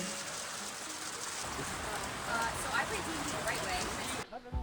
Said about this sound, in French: la pluie s'est abattue sur nous au moment de partir